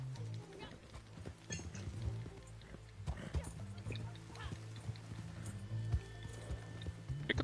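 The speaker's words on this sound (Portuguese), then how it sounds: "Por que eu tô escutando barulho de cavalo?" Horse hooves clip-clop in an irregular rhythm in the video game Red Dead, under game background ambience and a low steady hum, moderately close and fairly quiet.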